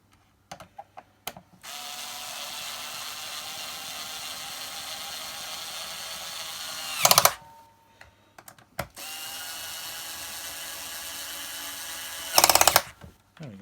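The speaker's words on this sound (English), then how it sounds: "I keep forgetting to use my electric screwdriver" Electric screwdriver whirring steadily in two long runs, each ending with a sharp ratcheting burst, separated by short clicks and pauses, close and clear without talk.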